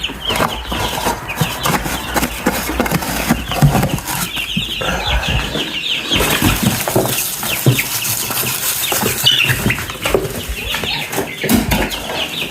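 Young farm birds in a covered pen flap their wings in quick, fluttering bursts amid busy clucking and chirping at night, the rustling and calls close and continuous throughout.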